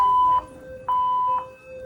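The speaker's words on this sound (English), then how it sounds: "this is my first time getting a fire alarm on record" A hotel fire alarm sounds loud and near in a steady, piercing electronic tone, blaring in two long bursts separated by a short gap, with no voices over it.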